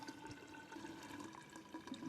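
Water pours steadily into the reservoir of an Earth Box self-watering planter, a continuous quiet trickling and splashing with faint gurgles, close by and alone.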